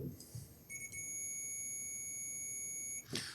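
A multimeter beeps during a continuity test on cleaned video game cartridge contacts. One steady electronic tone holds for a little over two seconds over a quiet background.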